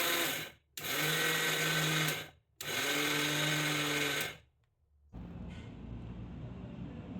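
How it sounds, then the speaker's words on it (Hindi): A mixer grinder coarsely grinds roasted flaxseed (alsi) in its jar, running in three loud, close bursts with short pauses between, then stopping and giving way to quieter background noise. "इसको जार में डालेंगे और जार में डालने के बाद इसको हम दरदरा सा पीस करके तैयार करेंगे"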